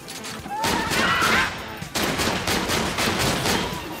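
Video game shotgun blasts in a run of several loud, close, sharp reports through the first two seconds, then continuing rapid gunfire with crashing impacts and a dense, busy battle din.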